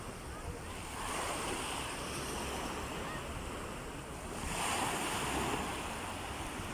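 Ocean waves wash onto a beach in a steady, roaring surf that swells louder twice, mixed with wind rushing across the microphone, with no voices.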